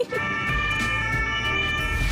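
An ambulance siren sounds in traffic in France, its steady tones holding above the rumble of passing cars and engine noise, heard alone without talk.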